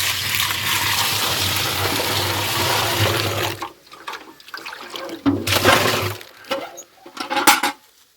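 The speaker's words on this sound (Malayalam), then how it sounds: "കഞ്ഞിവെള്ളം ഒഴിച്ചു കൊടുക്കാം." Rice water is poured out for an organic slurry mix, a continuous splashing gush lasting a few seconds, followed by quieter dribbles, clinks and small splashes nearby.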